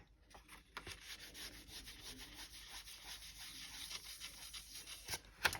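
Polymer clay piece being sanded by hand, a quiet steady rubbing scrape in repeated strokes, close and alone.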